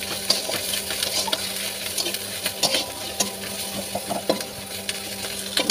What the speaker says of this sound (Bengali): এখন এটাকে আবার একটু নাড়াচাড়া করে নেবো।